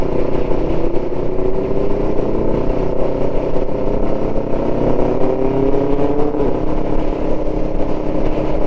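Kawasaki ER5 motorcycle running close by, a steady droning engine and exhaust note with slowly rising and falling pitch, loud and continuous with no talk.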